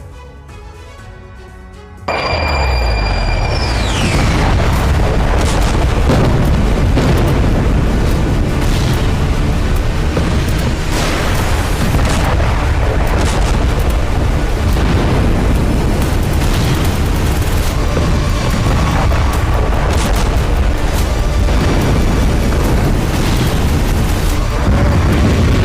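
Air-strike explosions with a fireball rising in Lebanon, starting after a short quiet lead-in with a sudden massive boom, then a sustained loud rumbling roar and repeated blasts that continue for over twenty seconds.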